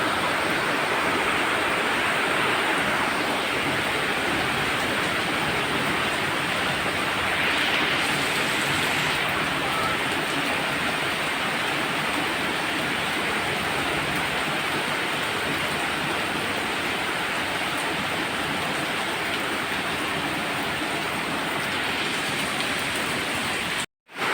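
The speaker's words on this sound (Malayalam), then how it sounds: "നല്ല മഴ പെയ്യുന്നുണ്ട് ഇപ്പം" Heavy rain pours in a constant, loud roar of dense drops, holding steady throughout before cutting off abruptly at the end.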